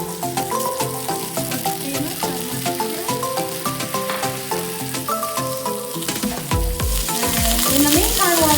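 Potstickers browning in a hot pan give a steady sizzle and frying crackle under tonal background music, growing louder and brighter toward the end.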